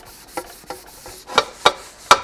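A carbon steel wok is scrubbed to remove rust in a series of short, rough rasping strokes, six or so in quick succession, close and fairly loud.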